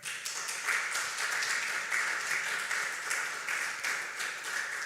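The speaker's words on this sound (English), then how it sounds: "Please, let's keep clapping till she gets here." An audience at an agricultural food security dialogue in Abuja applauds to welcome a panel moderator, a steady wash of clapping from many hands held at an even level throughout.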